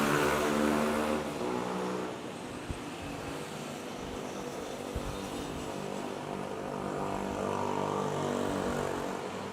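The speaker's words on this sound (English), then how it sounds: "Eva Air coming in a bit." An Eva Air airliner on approach into Manila's Ninoy Aquino International Airport, its steady engine roar loud and continuous for the whole stretch with a slight swell near the start, no talk over it.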